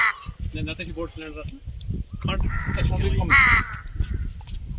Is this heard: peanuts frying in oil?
no